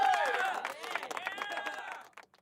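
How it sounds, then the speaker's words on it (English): A short burst of applause sound effect plays on a gaming news live stream, loud at first and then thinning out into scattered claps before stopping. "where's my clapping? Where's my clapping?"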